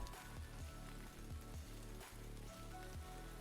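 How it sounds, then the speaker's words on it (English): Rain in a visual novel video game falls steadily on a surface, a soft, even patter with faint droplet ticks and no voices, quiet and continuous throughout. "Let's wait here until it stops raining."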